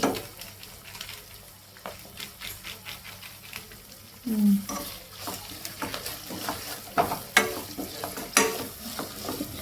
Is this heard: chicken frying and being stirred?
yes